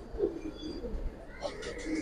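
Giribaz pigeons coo in a few soft, low, rounded calls set against a constant background murmur, with fainter chirps and rustling breaking in toward the end.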